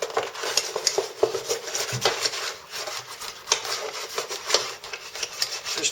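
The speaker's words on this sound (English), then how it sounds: "use just a piece of plastic or something like that to rub it with" Plastic rubbed back and forth over gasket paper pressed onto Prussian blue on a case cover, a dry scraping rasp in quick irregular strokes, close and moderately loud with no talking.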